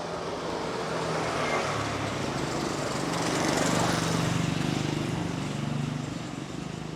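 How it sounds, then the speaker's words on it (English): A tuk-tuk engine passes through a street in Khon Kaen, Thailand, a steady buzzing drone that swells toward the middle and eases off again, with general traffic rumble beneath it. "And there's a tuk-tuk."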